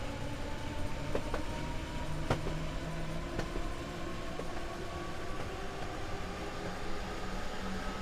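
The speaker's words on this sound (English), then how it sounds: "The DBs are my favourite trains on the Train Sim World game" A German DB train runs in the Train Sim World 2 video game, giving a steady rolling rail rumble with scattered clicks and clacks, continuous and moderately quiet, with no voices.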